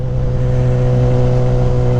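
BMW S1000XR motorcycle fitted with a high-flow air filter, ridden on a road toward Mil Cumbres, Michoacán; the engine holds a loud, steady, close-up drone with a strong low hum and no pauses.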